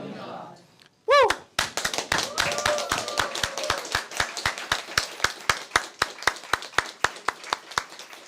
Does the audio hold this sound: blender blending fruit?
no